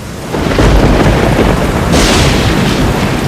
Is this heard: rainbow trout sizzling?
no